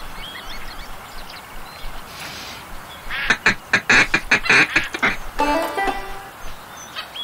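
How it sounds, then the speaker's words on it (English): Duck calls and quacking in the Duck Dynasty video game on PC: a rapid series of about eight sharp, loud quacks in the middle, with softer calling before and after over steady outdoor ambience. "call ducks in for him to shoot"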